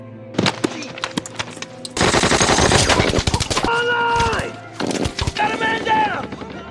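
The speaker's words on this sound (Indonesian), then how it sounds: "Tembakan bertubi-tubi dari musuh" Rapid bursts of machine-gun and rifle fire in a World War II battle scene at Bastogne, loud clustered volleys with short pauses, mixed with shouting voices and whistling projectiles.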